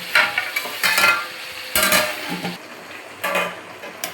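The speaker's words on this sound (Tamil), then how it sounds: "இது வந்து இப்படி ஒரு கிளறி விட்டுக்கோங்க." Irregular scraping and clinking of a spoon stirring Arabic mandi chicken in a metal pot, with brief bursts of movement between quieter pauses.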